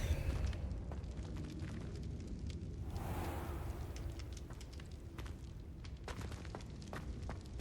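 The Confringo fire spell bursts in Hogwarts Legacy with a soft whooshing blast midway, set against a steady low rumble of ambience and scattered small clicks and pops.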